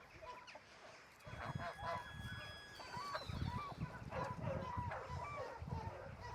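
Geese raised from goslings honk repeatedly at close range on a farm, with a few chickens clucking and other farmyard noise mixed in, and a voice speaking briefly.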